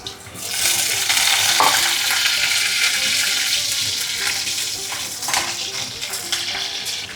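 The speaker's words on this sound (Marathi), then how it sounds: "तेल छान तापलं आहे आपलं मी आधी लसूण टाकते कढीपत्ता" Garlic and curry leaves fry in well-heated oil in a pan, giving a loud, crackling sizzle that swells after the first moment and carries on with irregular pops and scraping stirs.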